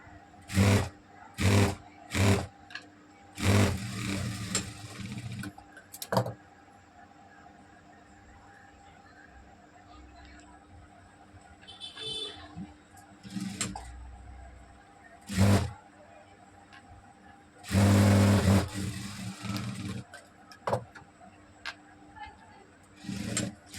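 A sewing machine stitches hook tape onto a blouse in short bursts of motor whirring, separated by quieter pauses, fairly close.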